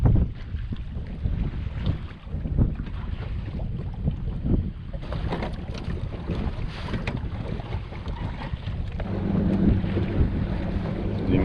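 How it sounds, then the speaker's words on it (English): Gusting wind buffets the microphone outdoors near water while bass fishing, rumbling unevenly throughout with faint lapping and boat noise underneath. "I know it's a little windy out here"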